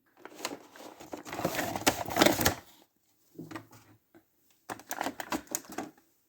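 Cardboard box and plastic packaging of a Star Wars Black Series Flametrooper figure being opened, quiet bursts of crinkling, tearing and tapping in two main spells separated by a short pause.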